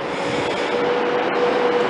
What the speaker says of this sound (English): Arriving in on platform 4, we have a Virgin train service